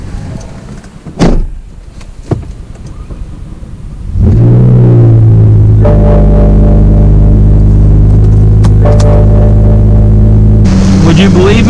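A previously wrecked BMW M5's engine starts up and settles into a steady, loud idle and drone with a deep, sustained rumble while driving, heard up close from inside.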